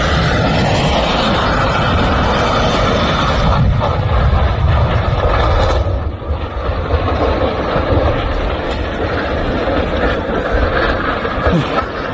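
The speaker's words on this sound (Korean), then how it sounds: "동체 착륙을 한 비행기는 활주로를 따라 쭉 미끄러져 가다가 로컬라이저가 설치된 콘크리트 둔덕을 들이받는 순간" Jeju Air passenger jet belly-landing at Muan Airport and sliding along the runway, a loud continuous roar with grinding rumble that holds steady throughout.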